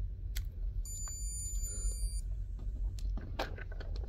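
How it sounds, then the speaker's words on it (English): Tamagotchi virtual pet toy giving a few slight, high electronic beeps after its battery goes in, short tones against a low background rumble and handling noise. "you hear the slight beeps there"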